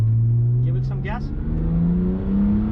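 A BMW E90 328i engine hums close by as throttle is applied, a low steady drone rising gently, with a person talking briefly over it.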